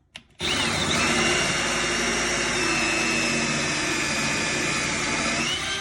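A power drill cuts into wood, running loud and steady after a short start, a constant high whine and grinding hum close by with no talking.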